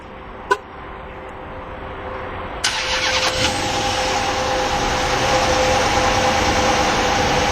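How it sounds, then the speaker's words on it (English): A 2012 Dodge Charger R/T with a Hemi V8 is remote started: a brief chirp, then the engine cranks and catches with a sharp roar before settling into a steady, close, rumbling idle. "let's go ahead and fire up the engine"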